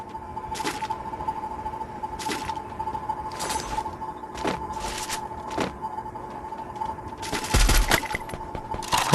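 Gunfire in a shooter video game during a solo ranked match: repeated bursts of automatic fire and single shots at irregular intervals, fairly close, over a steady background hum with no speech.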